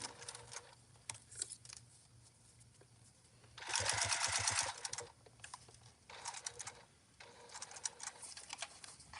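Sewing machine stitching a fabric wallet seam in several short bursts of rapid mechanical clatter. The longest run comes midway, and quiet pauses separate the bursts.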